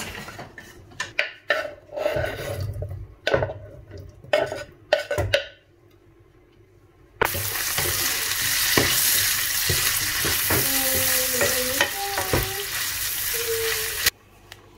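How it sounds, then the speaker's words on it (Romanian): Ham frying in a pan for a tomato pasta sauce, first clattering stirring and pan knocks, then after a pause a loud, steady sizzle that runs for about seven seconds with a few scraping tones, close to the pan. "Aici am făcut sosul, am prăjit șunca"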